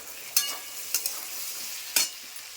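Taro being stirred and fried in a pan for a home-cooked vegetarian lunch: a steady low sizzle with a few sharp scraping clatters of the spoon against the pan, close by, with no talking.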